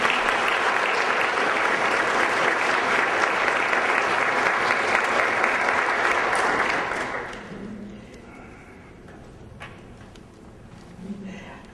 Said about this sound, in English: Would you please give a nice round of applause again for Daryl Baldwin?